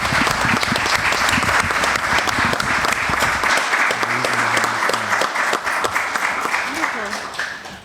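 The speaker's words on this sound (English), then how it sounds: "So I want a round of applause for all of our sticker contestants." Audience applause honoring the contestants in an "I Voted" sticker design contest, heard at a public board meeting. Sustained, dense clapping from a crowd fills the room, fading slightly toward the end.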